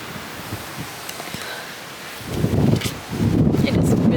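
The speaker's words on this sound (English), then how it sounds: "It is really, really windy" Strong outdoor wind buffets the microphone in low rumbling gusts, growing louder and more turbulent toward the end.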